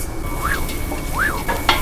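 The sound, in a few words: onions sizzling in a pan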